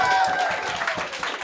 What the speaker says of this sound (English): Clap your hands, round 2.